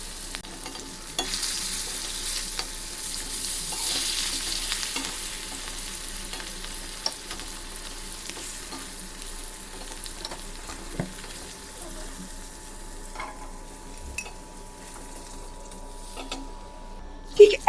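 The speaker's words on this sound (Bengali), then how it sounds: "ঠিক একই তেলের মধ্যে ওই একইভাবে পটলগুলো দিয়ে এপিট ওপিট করে ৩-৪ মিনিট ভেজে উঠিয়ে নিলাম।" Pointed gourd (potol) frying in hot oil that was just used for hilsa, a steady soft sizzle with occasional stirring clicks and utensil taps, moderately close and without talk.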